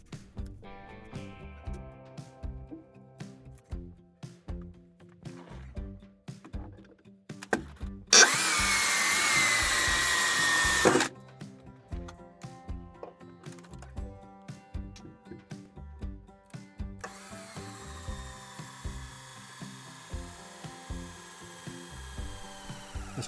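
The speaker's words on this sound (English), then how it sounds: "This drill likes to remind me from time to time how much torque it has." A power drill drives 8-inch exterior timber screws into wood, with intermittent grinding bursts and a loud sustained stretch of high-torque whine in the middle, then more stop-start drilling.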